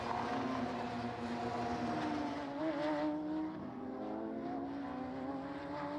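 Radical race cars at Snetterton circuit in a 2019 Radical Challenge race, a pack of engines droning loud and steady with overlapping whining pitches that rise and fall as the cars circulate.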